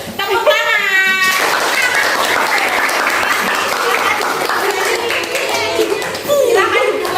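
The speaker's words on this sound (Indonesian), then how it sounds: "Tepuk tangan." Classroom students clap their hands together in loud, lively applause, with children's voices and chatter mixed in, before the clapping settles toward the end.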